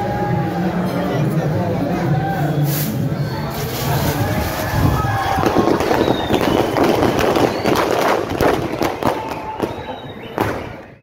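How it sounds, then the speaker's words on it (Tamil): Firecrackers set off during New Year celebrations in a town street, sharp pops and crackling bursts through the second half over steady crowd noise and voices. "அங்கனைக்கு ஒரு டீம் பட்டாசு போட்டு நிற்கிது பாருங்கள்"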